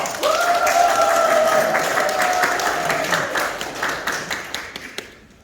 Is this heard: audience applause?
yes